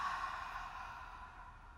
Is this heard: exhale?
yes